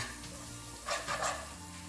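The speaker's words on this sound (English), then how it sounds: "So while this is happening, I am going to toss in my onions and I'm going to lightly" Onions tossed into hot melted butter in a pan, giving a soft, steady sizzle with brief brighter bursts of frying and stirring, fairly close and without talk.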